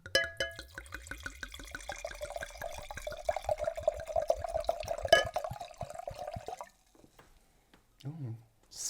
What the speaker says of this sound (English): ASMR pour number 2